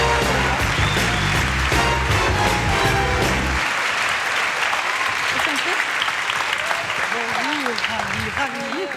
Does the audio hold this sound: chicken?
no